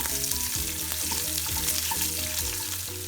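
Finely chopped green chillies sauté in hot oil in a pan while making cabbage paratha filling. A dense, continuous frying sizzle runs close and steady throughout, with a low hum underneath.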